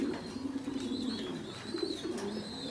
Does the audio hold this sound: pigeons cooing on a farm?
yes